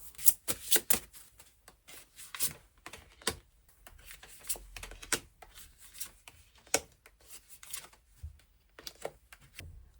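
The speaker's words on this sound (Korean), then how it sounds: "상반기 연애적으로 알차게 보내기 위한 오라클 카드도 같이 볼게요" Oracle cards are shuffled by hand in a series of quick, crisp riffles and taps, close and light, repeating irregularly without any speech.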